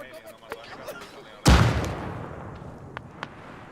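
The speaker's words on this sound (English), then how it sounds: "Frag going out north." A frag grenade detonating in Arma during a large multiplayer battle, one sharp loud blast mid-clip with a rumbling tail, amid scattered distant gunshots.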